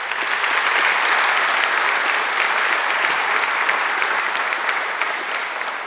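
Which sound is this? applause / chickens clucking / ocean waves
applause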